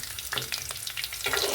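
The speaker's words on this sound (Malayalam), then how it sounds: "ഇഞ്ചി വെളുത്തുള്ളി നന്നായിട്ട് മൂക്കണം. അതിനുവേണ്ടി നമ്മൾ ഒന്ന് ഇളക്കി കൊടുക്കാം." Ginger and garlic frying in hot oil in a pan while beef roast is being made, giving a steady crackling sizzle broken by several short scraping stirs of a spoon, close and fairly loud.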